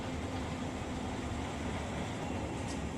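A coal train passing in the Run 8 Train Sim video game: a steady, dense rumble of rolling wagons that holds at even loudness throughout with no pauses.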